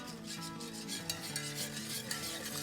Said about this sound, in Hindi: दूध को हम इसमें थोड़ा सा डालेंगे और फेंटेंगे।